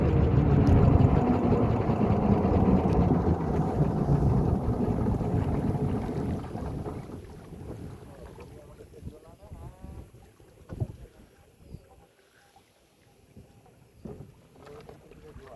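A fishing boat's motor chugs on a Sundarbans river, loud and near at first, then fades and winds down as the boat approaches a ghat, leaving scattered knocks, splashes and wind.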